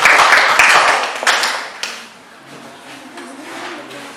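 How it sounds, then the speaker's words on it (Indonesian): Classmates clap in a classroom during a teacher training session, a short burst of applause loudest in the first two seconds, then trailing off into faint room noise. "kita berikan aplaus buat teman-teman"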